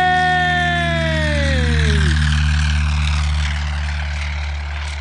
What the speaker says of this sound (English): What a wonderful takeoff.